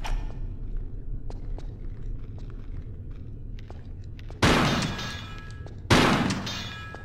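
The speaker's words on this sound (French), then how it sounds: "Alors, on prépare le fusil à pompe." Two loud, booming pump-action shotgun blasts from Tomb Raider ring out about a second and a half apart, each decaying slowly, over quieter footsteps and low ambient rumble.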